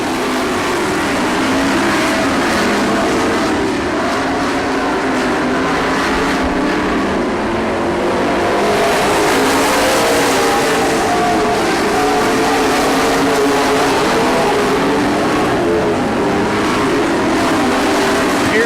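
Race cars circle a track in a loud, unbroken roar of engines, close and continuous throughout.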